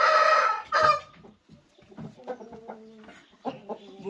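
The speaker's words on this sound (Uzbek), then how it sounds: "Mana xo'roz." A rooster offered for sale lets out a loud, close crow, then a run of softer, broken clucks.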